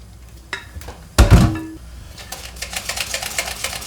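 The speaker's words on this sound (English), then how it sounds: "a slow backwards and forwards movement generates the Spaetzle" A spaetzle maker is pushed back and forth over a pot of boiling water, giving a sharp metallic clatter followed by a run of quick scraping, rattling strokes, close and fairly loud with no talking.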